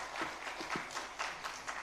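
Faint, brief round of applause from an audience at a fireside chat event, scattered claps in short bursts.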